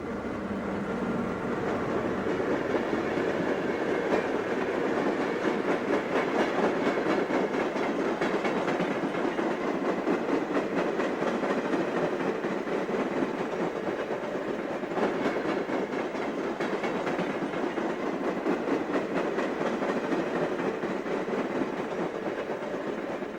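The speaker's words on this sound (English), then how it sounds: "Today we see CN train number 17, the Intercity Limited," CN train number 17, the Intercity Limited passenger train, rumbles steadily past on tracks along the Detroit River near Windsor, a continuous loud roll with faint wheel clatter lasting throughout, no voices.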